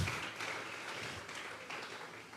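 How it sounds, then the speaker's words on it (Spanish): A congregation at a Sunday church service claps hands in a sustained burst, with many hands blending into an even roar that eases slightly in volume over a couple of seconds. "Vamos a regalarle ofrenda de palmas al Dios de la gloria."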